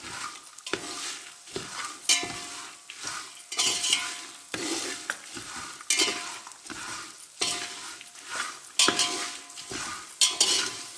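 Puffed rice spiced as kara pori, with peanuts, is stirred and roasted in a pan, producing steady rhythmic scraping and rustling strokes with a light sizzle, close and moderately loud, with no talking.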